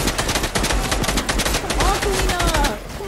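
Rapid gunfire from a Fortnite match, a dense run of sharp repeated shots filling the whole stretch, with brief game effects and faint voice traces mixed in.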